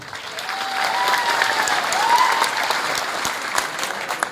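Audience clapping at an Odia jatra theatre performance, a steady, dense applause sustained for several seconds from a crowd in the venue, with faint voices or music tones beneath.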